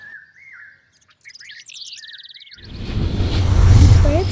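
A flock of birds chirps and tweets in quick bursts, then the flapping rush of many wings swells loud and close, a few calls still cutting through the whoosh.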